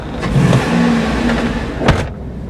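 A GM 6-liter V8 engine cranking and catching, with a steady loud rumble throughout, a brief whir early on and a sharp burst near the end before the sound cuts off.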